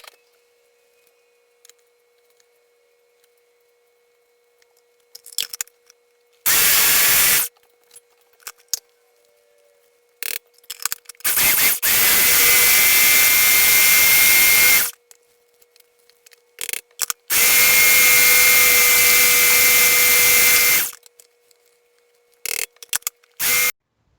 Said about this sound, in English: I'm going to use my food processor.